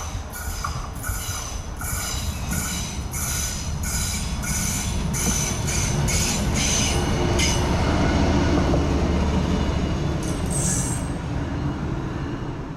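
A New Jersey River Line diesel light rail train rumbles past up close, its steady wheel roar and rhythmic clatter joined by high metallic wheel squeal, with a sharp squeal burst near the end.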